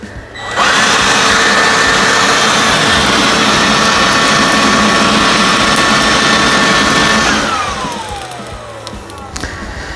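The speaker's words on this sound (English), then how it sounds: "Here's my cheap little leaf blower." A small, cheap leaf blower with its end removed blows on charcoal, roaring steadily at close range with a loud, whining motor, then winds down near the end, leaving a lower rushing hiss.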